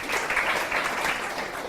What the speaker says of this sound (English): So let's give Omri a big round of applause.